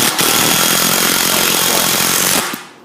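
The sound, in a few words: power screwdriver driving screws into panels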